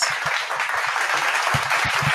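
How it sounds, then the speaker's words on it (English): Steady crowd applause with dense clapping, fairly loud and continuous for about two seconds with no voices over it. "Round of applause."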